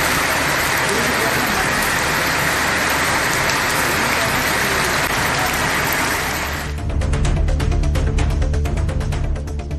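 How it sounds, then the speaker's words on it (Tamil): Heavy thunderstorm rain in the Kovilpatti area of Thoothukudi district pours down in a dense, loud, continuous hiss, shifting partway through to a closer, patterier downpour drumming on a surface. "தூத்துக்குடி மாவட்டம் கோவில்பட்டி பகுதியிலும் 2வது நாளாக இடி மின்னலுடன் மழை பெய்தது"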